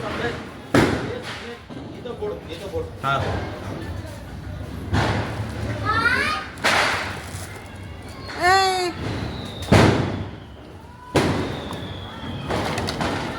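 Several sharp firecracker bangs burst at irregular intervals during Lakshmi Puja celebrations, loud and close, while people talk and shout over them.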